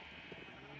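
A sheep bleats in the Minecraft video game, a single brief cry heard over a steady hum of background game noise with no talking.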